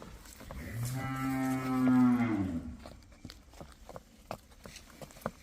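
A buffalo lets out one long, drawn-out moo nearby, then a series of soft knocks and hoof-like clatters.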